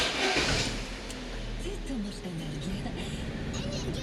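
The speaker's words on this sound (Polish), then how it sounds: "Odpalimy sobie samochód" A car engine cranks and catches, then settles into a steady low idle rumble, heard close up throughout.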